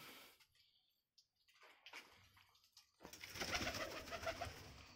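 Pigeons coo softly at wire feeding trays with a grit feeder and water drinker, faint low calls early on, then a busier stretch of rustling, fluttering and cooing from the flock nearby.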